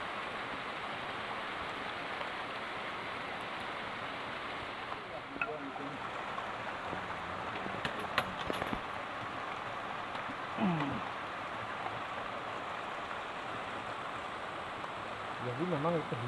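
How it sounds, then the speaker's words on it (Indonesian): Rain falls near a spring in a rural village, a soft, even patter of drops under steady hiss, fairly faint, with a few scattered louder taps and brief tonal chirps mixed in. "Jadi memang itu hujan, guys."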